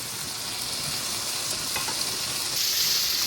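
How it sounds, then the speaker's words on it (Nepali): Noodles for Nepali thukpa bubble and boil in a pot at home, a dense, steady hiss and rolling bubbling heard close and fairly loud throughout, with no voices. "नूडल त्यसरी उम्लिरहेको छ"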